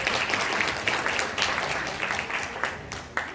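Warm audience applause greets the first speaker at a consciousness festival in Hong Kong, a dense, steady wash of many hands clapping that runs throughout and tapers slightly near the end.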